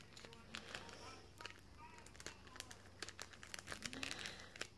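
Someone carefully works open a paper envelope, making faint, close crinkling and small tearing sounds with light taps, broken into short bursts while a person speaks softly.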